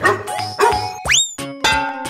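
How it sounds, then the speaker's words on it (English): A dog barks several times in quick succession, close and loud, with sharp tonal yelps mixed with short bow-wow barks and brief gaps between them. "Dog."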